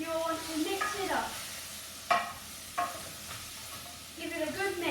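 Chopped celery being stirred in a frying pan for pea soup, with a steady sizzle and several scraping strokes of a utensil against the pan, close and fairly quiet.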